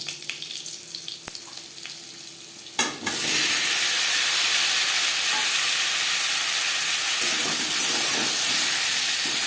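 Potatoes drop into hot oil with five-spice seeds and bay leaf for a Bengali pabda fish curry, setting off a sudden loud, steady sizzle that holds to the end after a quieter opening.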